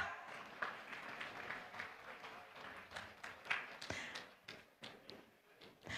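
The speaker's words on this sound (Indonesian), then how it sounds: "Kita berikan aplaus yang meriah" Crowd applause and scattered taps at a program launch ceremony in Maluku, with irregular claps and thuds building and fading over several seconds, fairly close and without speech.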